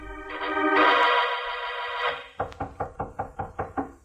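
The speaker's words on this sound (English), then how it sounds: "there was a knock" Knocking on an office door at night: about eight sharp, evenly spaced raps close by, following a sustained musical tone that fades out, with no voices.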